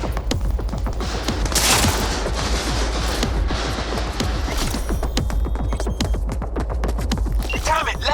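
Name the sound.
gunfire in video game Cyberpunk 2077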